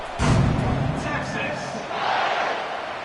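A stadium crowd in an American football video game roars steadily before a kickoff, a broad continuous cheer with a commentator talking over it.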